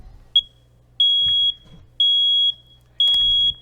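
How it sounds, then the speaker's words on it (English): A hard-wired smoke alarm's test button sounds four sharp, high-pitched beeps, each about half a second long, spaced evenly one second apart. "So if you hold the test button now, the alarm will work"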